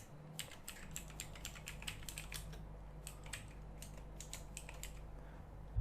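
Quick, close clicking of computer keyboard keys comes in short bursts as text is typed, over a steady low background hum.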